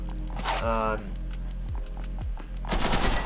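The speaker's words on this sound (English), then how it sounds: "Number 17, the heavy assault rifle." Heavy assault rifle in the video game Ragdoll Universe firing rapid automatic bursts, loud and close, with short pauses between volleys and a louder stretch of fire at the end.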